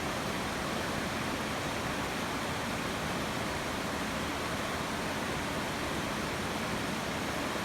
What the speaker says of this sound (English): This is another stretch of the Housatonic River.